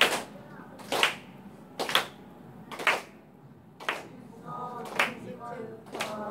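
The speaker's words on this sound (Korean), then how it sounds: "박수 쳐주시고." An audience at an English teacher training session claps along in time, sharp claps landing about once per second over faint music and singing in the background.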